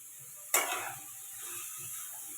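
A sudden sizzle as grated carrots hit a hot kadhai for carrot halwa, one bright burst followed by a steady quiet hiss of sautéing.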